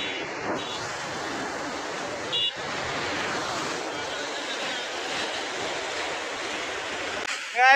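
River floodwater flowing across an asphalt village road, a steady broad rushing wash of moving water, with brief clicks, a short horn-like tone and a loud burst at the close.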